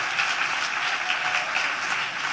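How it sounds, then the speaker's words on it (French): Sustained audience applause at a ceremony, a steady dense wash of clapping hands filling the whole stretch at even loudness, with no voices rising above it. "Et j'aimerais qu'on applaudisse bien fort Nicolas Sarkozy qui nous regarde"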